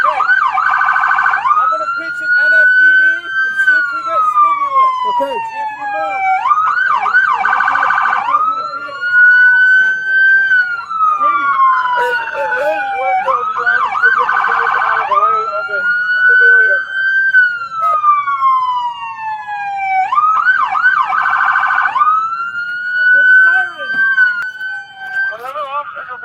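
Loud, close police siren cycles repeatedly between a long falling wail and bursts of fast yelping, continuing steadily throughout.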